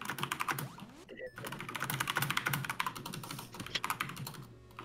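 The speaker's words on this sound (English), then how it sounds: "Furious typing noises." Furious typing on a mechanical keyboard, dense rapid clicking and clacking close to the microphone, nearly continuous with one brief pause, alone without talk.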